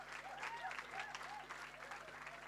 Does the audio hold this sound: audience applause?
yes